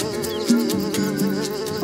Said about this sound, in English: Why does that fly suddenly look so tasty?